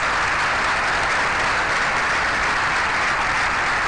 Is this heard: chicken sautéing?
no